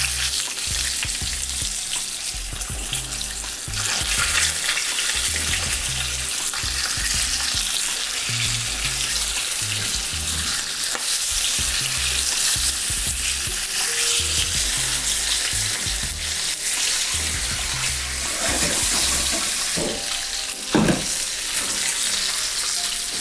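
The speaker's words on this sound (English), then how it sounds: "I wanna sear the flesh side down first." Sea bass fillet sears flesh side down in a hot pan, a steady loud sizzle and crackle running throughout with occasional stirring and clinks, no talking.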